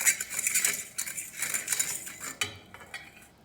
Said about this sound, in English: Give it a nice stir. I'm here using a fork, so mix nicely